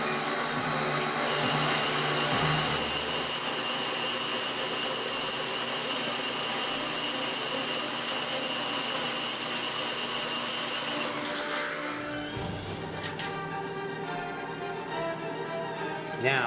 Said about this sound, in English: Add the egg whites to the batter and mix it all together.